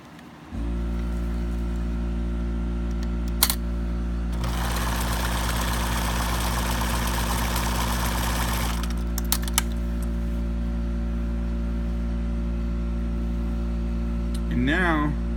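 A Bernina sewing machine runs steadily with thread tension being adjusted, its motor hum persisting throughout while a denser burst of rapid stitching chatters in the middle, with a few clicks near the start and end.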